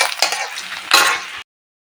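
Onion, spices and egg frying in a home kitchen pan, a short close burst of bright sizzling with a clatter of utensils, then sudden silence.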